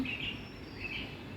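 Birds chirp in the early morning after dawn prayer, two short bright bursts of calls over a steady breezy outdoor background, fairly faint and with no talking.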